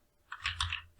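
A few quick keystrokes on a computer keyboard as a command is typed into a Windows 10 terminal, soft and close, with a low hum underneath and no talking.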